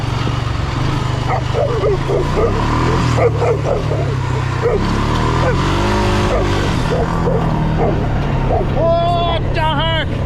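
A nasty ranch dog barks and yips as it charges toward a moving vehicle, sharp repeated barks over a constant engine rumble with people talking.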